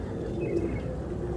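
A pigeon just back from flying gives a short, low coo, close and steady, with no voices over it.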